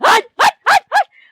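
A dog gives four quick, loud barks in an even rhythm, close by, ending with a faint whine.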